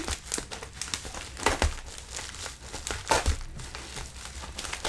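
Stamperia craft supplies are unwrapped carefully, and the packaging crinkles and crackles steadily and close by. Louder rustles and small tearing sounds break through now and then.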